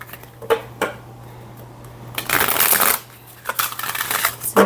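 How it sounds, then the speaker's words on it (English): An oracle card deck is shuffled by hand in a few separate bursts of riffling and flicking card noise, close and crisp, with short quiet gaps between them. "let's see how this deck shuffles"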